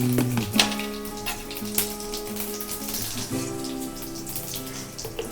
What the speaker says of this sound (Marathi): थोडासा हिंग टाकू।